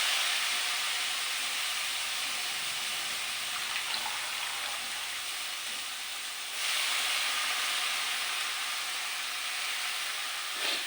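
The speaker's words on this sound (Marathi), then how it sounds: "आता मी भाजी टाकून घेते मस्त असे खरपूस भाजी." Vegetables frying in a pan on a home stove, a steady loud hiss and sizzle that holds evenly for about eleven seconds and brightens slightly partway through, with no talking.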